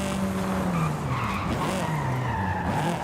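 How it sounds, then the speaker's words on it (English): A car in Forza Horizon 5 braking hard, tires skidding and squealing in a sustained screech over the engine's wavering tone, close and loud for a few seconds. "This has got pretty good brakes."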